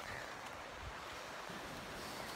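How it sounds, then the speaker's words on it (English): Water of the Narracan River rushes steadily as a continuous broadband wash, faint and distant with some wind noise mixed in. "The river's got plenty of water in it."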